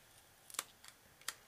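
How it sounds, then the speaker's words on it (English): Scissors snip through thin metal and plastic pieces for earrings, three or four crisp, quiet clicks spaced apart close by in a quiet room. "trim it out with my scissors"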